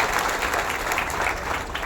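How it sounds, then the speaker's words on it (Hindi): A crowd claps steadily in welcome for a district party leader at the opening of a campaign office by the railway station, giving dense, even applause with no gaps. "सब लोग ताली बजा करके राजेंद्र जी का स्वागत करेंगे।"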